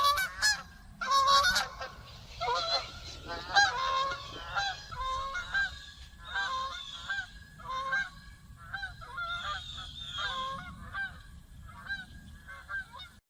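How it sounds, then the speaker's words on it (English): A flock of geese flying overhead, honking repeatedly in a loud, overlapping chorus of nasal calls that carries on steadily throughout, close and clear with no talking. "The video shows a flock of geese flying overhead. Words of encouragement appear as the geese honk."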